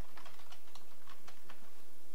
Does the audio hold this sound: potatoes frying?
no